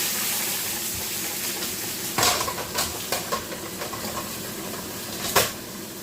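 Pork chops sear in a pan, a steady close sizzle broken by sharp clatters and knocks of a pan lid and utensils.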